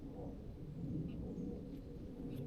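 Steady rain while fishing outdoors for catfish, a continuous low rumbling wash with no clear individual drops and no voices.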